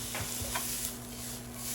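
Onions frying in a pan for bibimbap make a soft, steady sizzle with a few faint stirring scrapes, moderately close under a constant hum.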